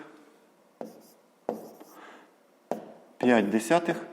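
Pen strokes scratch on paper in a few short bursts as numbers are written out for a decimal subtraction in a fifth-grade math exercise, with a voice talking in between.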